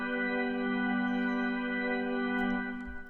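A GarageBand organ sustains a steady held chord with chorus and reverb, its tone smooth and unwavering, fairly quiet, with a slight shift near the end and no talk.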